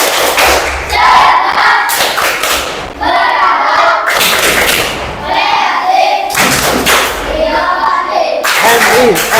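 A class of Islamic primary school children chant loudly in unison, punctuated by bursts of rhythmic clapping and thumps, repeating in several short phrases close by.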